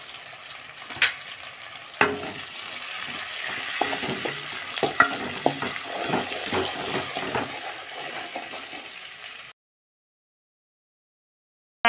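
Chopped onions frying in a pan for egg biryani, a steady bright sizzle with scattered clicks and scrapes of stirring, ending in silence near the close.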